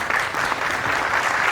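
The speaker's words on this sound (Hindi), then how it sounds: "थोड़ी शानदार तालियां अमित सर के लिए" A crowd at a large BPSC exam seminar in Patna gives steady, fairly loud applause, a continuous wash of clapping with no voices over it.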